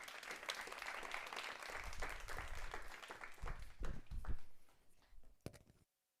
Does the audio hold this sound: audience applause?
yes